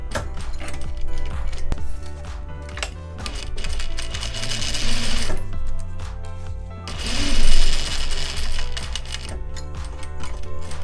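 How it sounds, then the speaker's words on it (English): Close, loud sewing machine edge stitching a tote bag, a rapid rhythmic clatter that runs almost continuously with brief slowdowns and restarts. "let's edge stitch the short end, the long end, and the short folded end."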